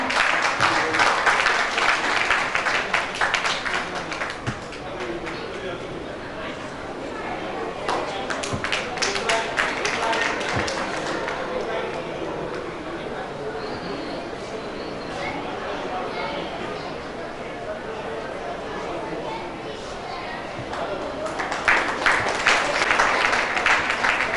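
Audience applause at a stage felicitation ceremony, a steady wash of clapping rising and falling over about twenty seconds, heavier near the start and end, with voices mixed in underneath.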